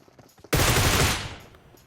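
A loud sustained burst of automatic gunfire in a battle royale video game erupts abruptly after a moment of quiet, then tails off into a fading echo.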